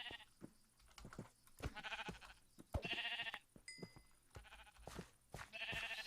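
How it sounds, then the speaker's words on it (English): Sheep bleating in a farm-building video game, several overlapping wavering bleats from a flock over muffled background thuds and footsteps, moderately close and repeated. "So many sheep."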